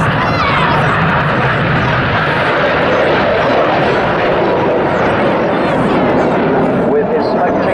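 Red Arrows aerobatic jets roar past at an air show, a loud, continuous broadband rush of jet noise filling the whole stretch, with an announcer's voice commentating over it.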